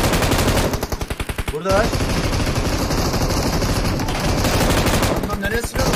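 M249 machine gun fire in PUBG Mobile, long loud automatic bursts close by with short pauses between them, while players talk over the shooting.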